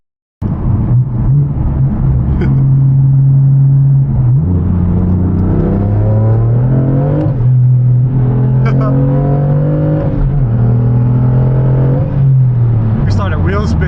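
BMW M3 accelerating hard at night on 305 tyres with wheelspin through third gear, a loud close engine drone rising in pitch through gears with rev dips between shifts.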